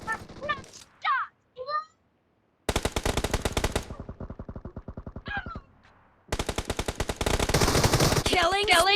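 Rapid machine-gun fire in a team video game comes in loud bursts, split by short gaps and broken by game sound effects and announcer voices.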